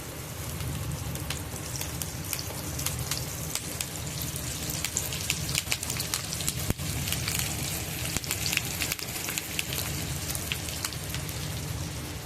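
Fish pieces frying on a flat griddle in hot, heavily sizzling oil, giving a steady close crackle and spatter that runs without a break from start to finish, with no voices over it.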